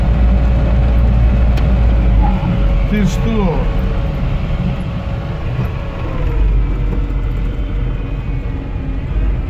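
UAZ-452 Bukhanka van with disc brakes driving off-road on a test ground, a steady loud low engine rumble and drivetrain noise running throughout, with a person speaking briefly over it.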